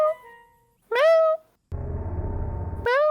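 A person imitates a cat, giving two rising, drawn-out meows with a short buzzy hum between them. The voice is close and clear.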